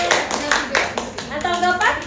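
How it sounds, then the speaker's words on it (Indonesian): Audience applause following a presentation at a PPG teacher training session at UIN Antasari Banjarmasin, a short burst of rhythmic clapping with voices talking over it. "Berikan tepuk tangan."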